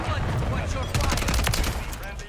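Rapid gunfire from Call of Duty: Modern Warfare 3, a dense burst of sharp shots crackling over low rumble, fairly loud and continuous for a couple of seconds.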